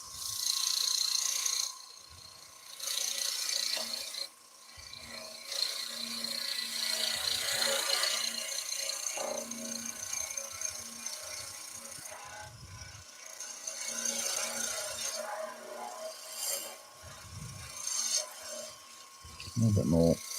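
Bowl gouge cleaning up the top surface of driftwood turning on a lathe, a continuous scraping and rasping hum with uneven surges, moderately close.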